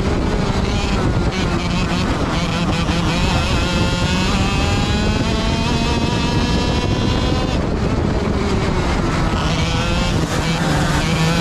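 A loud, high-revving racing engine from a racing video game whines continuously, its pitch rising and falling as it shifts through gears, with no talking.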